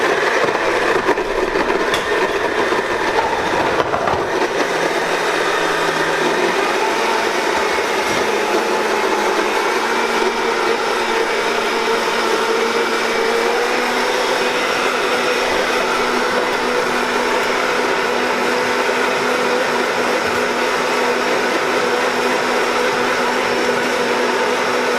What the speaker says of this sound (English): we're going to put all these spices right inside the blender here as well